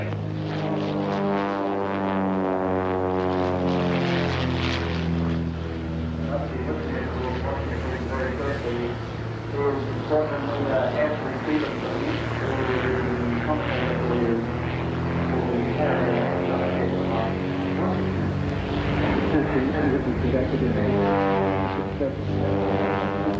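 A propeller aircraft drones steadily at an airshow at Auckland International Airport in 1992, a loud continuous engine note with shifting pitch, while people talk over it throughout.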